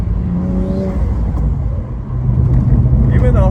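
A BMW N54 engine fitted with an aluminum intake manifold and cone filters rumbles deeply nearby, swelling into a brief rev near the end, with faint voices underneath.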